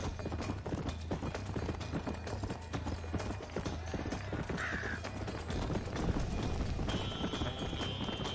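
A horse gallops in Red Dead Redemption, hoofbeats clopping in a steady rapid rhythm throughout, mixed with game music and ambient effects, moderately loud.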